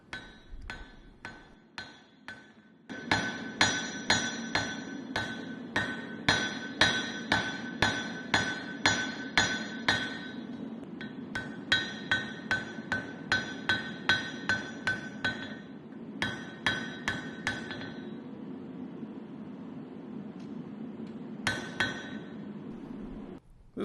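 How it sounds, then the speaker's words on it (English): A hammer strikes a knife blade on an anvil while forging its bevels, a long series of sharp metallic blows in an uneven steady rhythm. The ringing impacts are close and alone, with a few short pauses between the runs of strikes. "Forge in the bevels."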